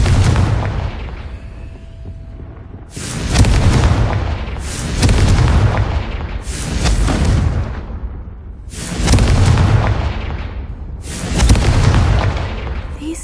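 Confringo blasting spell explosions in the Hogwarts video game, five deep booming blasts spaced a couple of seconds apart, each loud with a rumbling decay.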